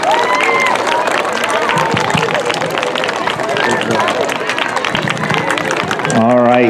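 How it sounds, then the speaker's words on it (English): An elementary school crowd at a Lunar New Year celebration claps and cheers for teachers and staff, a loud, dense, continuous wash of applause and babble lasting throughout, ending with a brief announcer's voice. "would you please give our wonderful teachers and staff a big applause"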